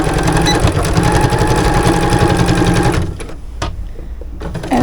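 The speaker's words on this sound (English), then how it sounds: "And we're just going to sew this with a straight stitch" A sewing machine runs a straight stitch down a baby rag quilt with a loud rapid mechanical chatter for about three seconds, then stops, leaving a few faint clicks and handling sounds.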